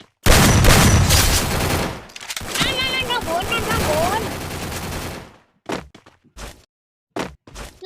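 Rapid gunfire bursts from the Free Fire video game rattle loudly for several seconds with game sounds mixed in, then give way to short, sharp isolated shots after a brief pause.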